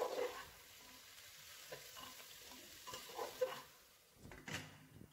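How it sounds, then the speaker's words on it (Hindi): Roughly chopped onions, about 500 grams, frying in a pot for a village-style chicken curry, a quiet sizzle with soft scrapes and knocks of stirring throughout. "अब हम इसमें 500 ग्राम प्याज ऐड करेंगे जो रफली हमने चॉप किया है, और इसको अच्छे से चलाएंगे।"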